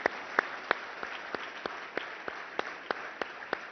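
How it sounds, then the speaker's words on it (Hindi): Audience clapping at a Paralympic gathering, with sharp, evenly spaced claps about three times a second over a soft background murmur, moderately close and steady throughout. "तो एक बार जरूर माननीय देश के प्रधानमंत्री जी के सभी जोरदार तालियां बजाएं उनके लिए"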